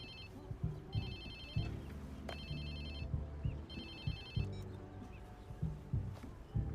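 In Watch Dogs 2, a phone rings in repeated electronic bursts, each a short trill separated by pauses, set over a low background rumble with occasional thumps.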